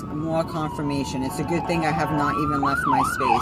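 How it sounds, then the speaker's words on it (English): An ambulance siren passes outside, its wailing tone rising and falling loudly and repeatedly while a person speaks over it throughout. "That is a ambulance."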